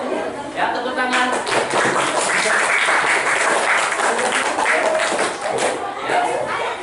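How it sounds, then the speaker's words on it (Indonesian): A classroom group claps after a student presentation, a dense burst of applause that swells, holds steady and tapers near the end, with voices mixed in. "Ya, tepuk tangan."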